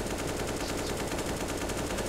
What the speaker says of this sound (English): I was just shooting, just for the fun of it